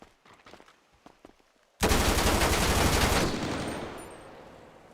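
Video game gunfire bursts out suddenly after a few faint taps, a loud dense rattle of rapid shots that holds for over a second and then fades into a ringing tail.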